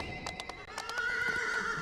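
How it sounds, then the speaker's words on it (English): A horse whinnies in the Cormyr video game, a series of bright, wavering neighs over a soft clip-clop of hooves and steady game ambience, loud and close for nearly two seconds. "Let me get on a horse so this isn't so"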